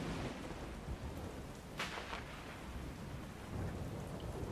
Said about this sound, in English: Where's my rainstorm? Rainstorm. Ah, here it is.